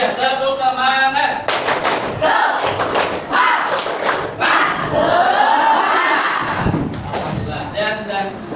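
A classroom group performs the tepuk semangat rhythmic clap routine during an Indonesian teacher-training lesson, sharp loud clap bursts in patterned sequence with voices chanting and talking between them.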